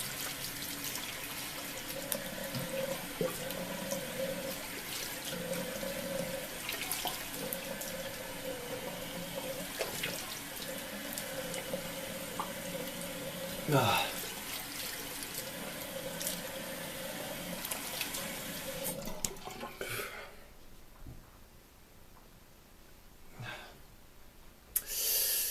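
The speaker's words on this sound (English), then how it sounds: "Let's wash up my face a little bit." Tap water running into a sink while a face is washed, a steady close splashing and rushing flow with occasional knocks and breaths, which stops near the end and leaves a quieter room.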